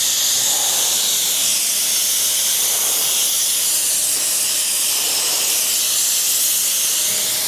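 A paint spray gun fed by a tiny compressor lays pearl mid-coat on a car panel without a booth, giving a loud, steady, unbroken hiss that lasts the whole time.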